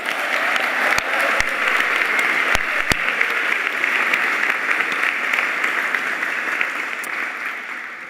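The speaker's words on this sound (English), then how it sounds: "Let's give a round of applause for our first years." Audience at a 2025 Colorado College opening convocation applauds the incoming first-year students, a dense, steady wash of clapping from a large crowd that holds for about eight seconds and eases off slightly at the end, with no talking.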